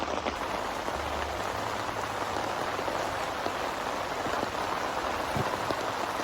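Heavy rain pours steadily onto a campsite, a dense, loud, unbroken hiss of drops drumming on surfaces that fills the whole stretch with no voices.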